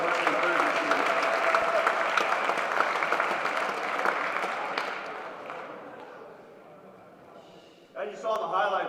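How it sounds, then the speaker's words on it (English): Loud, dense applause from a banquet crowd honoring the JV Gold and JV Purple football teams rolls on for several seconds, slowly fading before a voice speaks over it. "let's give our JV Gold and JV Purple a big round of applause"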